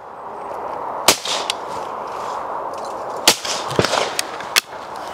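A .410 shotgun fires at clay targets outdoors, giving three sharp, fairly light reports spaced a couple of seconds apart, each with a brief tail, over a steady background hiss.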